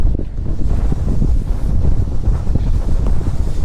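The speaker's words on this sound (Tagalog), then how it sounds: "taas ng hangin." Strong wind buffets the microphone at sea during a fishing outing, a loud, steady low roar with gusty fluctuations throughout and no talking.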